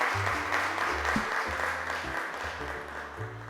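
Steady applause from a studio audience of a Turkish children's programme sends a young guest back to her seat, a continuous patter of many hands for a few seconds with no talking.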